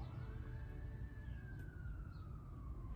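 A siren from emergency vehicles near a hospital about a mile away wails faintly in the distance, one long slowly rising and falling tone over a low steady rumble.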